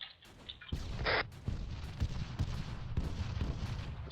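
Gunfire during a military simulation training exercise: a sudden loud burst of shots followed by repeated sharp reports and booms in a rough rhythm, outdoors and fairly close.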